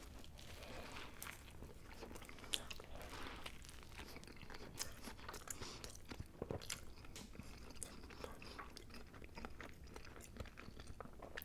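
Close, steady crunching as someone bites and chews a large crab sandwich with crispy bacon bits, continuous wet crackling mastication for several seconds with no speech.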